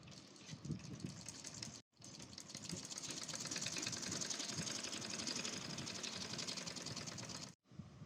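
A sewing machine runs steadily while stitching the inside seams of a 16-panel kalidar dress, a continuous fast mechanical whir with two brief pauses, loud and close.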